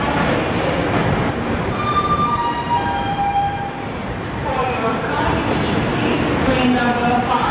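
The Howrah Rajdhani Express pulls out of Kanpur Central at night, with a loud, continuous rumble of rolling carriages and intermittent high wheel squeals and tonal screeches heard from close by inside the train.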